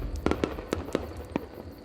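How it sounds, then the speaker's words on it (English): Fireworks go off above a lake during a midsummer ceremony at Bohemian Grove: a string of sharp, separate bangs at uneven intervals, fairly distant and moderately loud, with no talking. "Finally, fireworks are set off above the lake."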